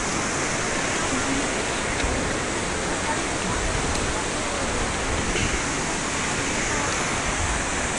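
A river rushing near Coban Pelangi (Rainbow Waterfall), heard as a steady, loud, broadband roar of flowing water with no breaks.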